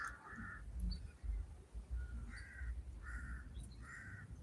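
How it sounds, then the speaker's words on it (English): A large flock of crows cawing repeatedly outdoors, harsh calls overlapping in bursts over steady low rumbling background noise. "See all these birds? I've never seen this many all together in one place."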